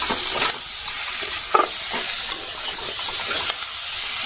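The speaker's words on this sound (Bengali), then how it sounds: "এদিকে আলুটা কষে নিচ্ছি ভালো করে" Potatoes frying in a pan and being stirred, a steady bright sizzle with scattered scraping stir strokes and small pops, close and continuous, no talking.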